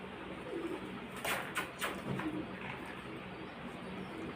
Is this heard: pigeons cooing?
yes